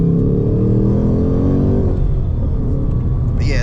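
Loud, steady engine roar from a manual 2025 Ford Mustang Dark Horse on a drive, a low rumbling drone that holds throughout with a slight rise toward the end.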